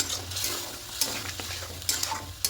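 Water poured into a pan of frying poppy seed paste with cauliflower and potato curry, a near, steady hiss and sizzle with a few sharp spoon scrapes against the pot, no talking.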